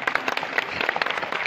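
An audience at a school annual function claps for the children performing on stage, a fairly faint, steady patter of many hands in a hall.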